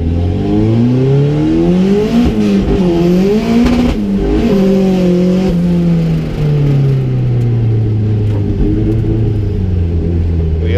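A drift race car on the last lap of pre-season testing, running a dry setup with relatively high tyre pressure, revs loudly and close, engine pitch rising and falling repeatedly as it spins out, then settles to a lower drone.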